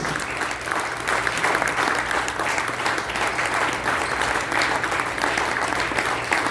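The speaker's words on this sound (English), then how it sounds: "I want to give a big round of applause to all the elected officials who are here" A large room applauds elected officials at a community action network gathering, dense steady clapping with a faint murmur of crowd beneath, sustained and even throughout.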